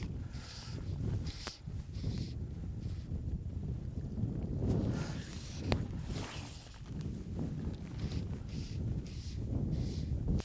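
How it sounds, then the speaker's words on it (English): Wind gusting on a river during fly fishing, a steady broadband rush with rumbling microphone buffeting that swells and eases throughout, loud and close, with no voices. "The wind's quite niggly."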